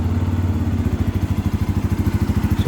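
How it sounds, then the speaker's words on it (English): A 2022 Bajaj Pulsar N250 idles close by, its engine giving a steady, rapid low thumping pulse with a bassy, grunty character, alone with no talk. "the bike is very grunty and it has good amount of bass as well"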